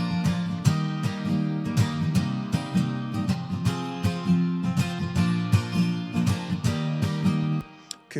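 Strummed acoustic guitar chords in a steady rhythm, bathed in a warm, roomy chamber reverb that lets each strum ring out, for a Motown-style sound.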